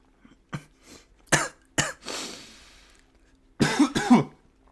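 Someone coughs repeatedly in harsh, separate bursts, with a raspy breath between them and a final double cough.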